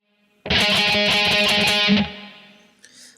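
A burst of very fast, tightly picked distorted electric guitar rhythm hits, loud and steady for about a second and a half before ringing out and fading, with no voices.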